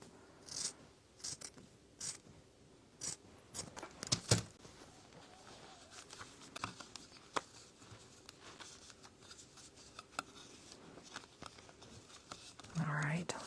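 Scissors trim the edge of a drop cloth canvas in a crafting session: quiet snips and rustling fabric come in short irregular bursts, with soft murmured speech in between.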